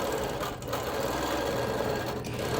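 A sewing machine runs steadily through freehand quilting stitches on a quilt with dark brown patches, a continuous close whir with two brief dips in pace.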